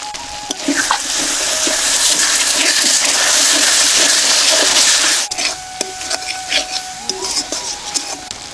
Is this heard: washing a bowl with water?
yes